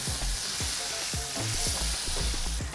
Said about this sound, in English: What happens as well here with frying this prosciutto is that we're rendering off that fat, and that's also going into that grapeseed oil